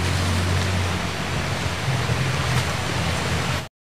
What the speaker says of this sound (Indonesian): Ini airnya banjir ya, keruh.